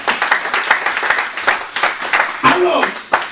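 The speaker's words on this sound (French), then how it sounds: "Quelqu'un peut acclamer pour Jésus." Church congregation applauding and cheering for Jesus during a French-language sermon, a dense run of clapping with rising voices and a shout midway, fairly close and loud.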